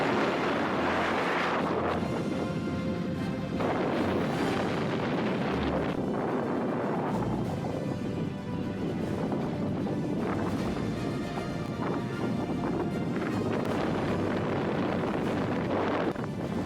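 Strong wind batters a mountain ridgeline on an autumn tramp, a loud, constant roaring buffet against the microphone with rising and falling gusts throughout, no voices.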